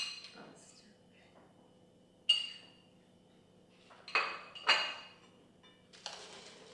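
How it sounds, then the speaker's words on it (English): Chopped scallion, leeks and garlic tossed in a bowl for a turkey stuffed-pepper filling, with a few clinks of utensil against the bowl and soft rustling, close and quiet. "Now be sure to mix everything up really well"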